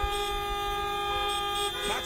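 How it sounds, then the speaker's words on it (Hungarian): Car horns toot at a Lag BaOmer car parade in Budapest, a long sustained blare of several honks layered over steady engine noise and crowd murmur, with a shorter sliding horn near the end. "Dudával válaszoljunk!"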